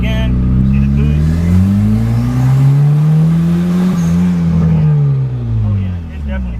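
A turbocharged Honda Accord F23 engine revs up under 7 psi of boost, a loud sustained drone rising then falling in pitch over several seconds, heard from inside the car.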